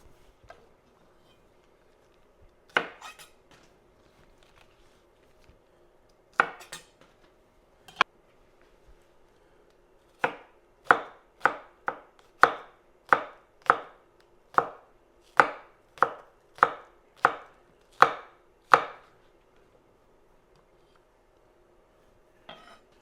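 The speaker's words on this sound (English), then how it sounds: "Trim and thinly slice scallions" A knife slices trimmed scallions on a cutting board, a few scattered cuts followed by a run of about a dozen evenly spaced, crisp chops up close, then quiet.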